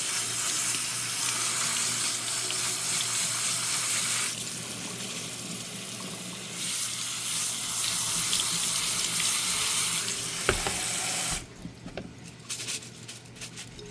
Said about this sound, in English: And I give it a really good rinse.